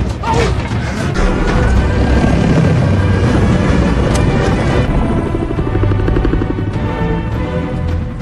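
Helicopter flying low in an action film scene, its steady rotor roar and engine drone filling the whole stretch loudly alongside dense soundtrack noise and impacts.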